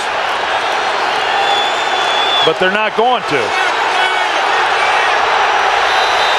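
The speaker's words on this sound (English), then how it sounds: "The crowd is screaming for a review." Football stadium crowd at a Chicago at New England game roars in a loud, sustained wash while a commentator talks over it.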